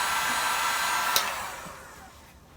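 A heat tool blowing hot air onto vinyl gives a steady, loud breathy whoosh with a faint click partway through, then tapers and fades as the airflow moves away or switches off.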